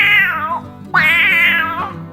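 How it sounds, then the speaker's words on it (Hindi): A domestic cat meows twice in quick succession, each call a clear, close, drawn-out wail with a rising then falling pitch, separated by a brief pause and heard alone without voices. "तब उसको कोई बात करने का आवाज और बिल्ली का आवाज सुनाई दिया।"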